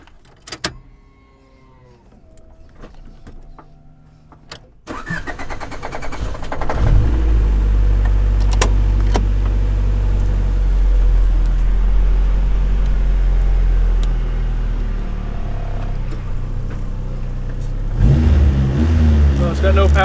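A car engine starts up and then runs steadily at close range as the car pulls into a garage beneath a parked Porsche on a hot day, the low rumble filling most of the stretch after a quieter opening with faint whirring.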